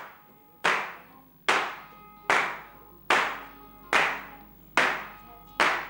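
Three people clap in unison in a recording studio's reverberant men's room, seven evenly spaced sharp claps, each followed by a thick, decaying echo tail.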